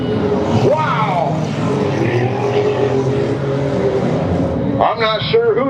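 Demolition derby cars roar around a dusty track with engines revving and rising in pitch as they race past, while a voice talks over the din.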